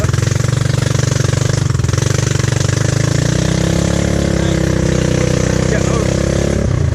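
Honda off-road vehicle stuck in thick mud, its engine loud and close with a steady rattling drone that rises in pitch partway through, while people talk over it.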